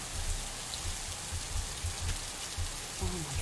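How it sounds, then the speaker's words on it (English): Steady rain falling in the survival video game The Isle, a dense even patter of drops with faint low thumps, heard without talking. "Oh yeah, it's raining."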